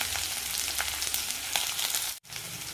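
Fenugreek, curry leaves and ginger fry in hot oil for a fish mango curry, making a continuous close crackling sizzle that cuts out abruptly for a moment near the end before resuming.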